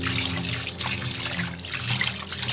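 Fish, including pangas, are rinsed under a running kitchen tap: a steady, close rush of water with slight dips and splashes as the fish are moved through the stream, no speech.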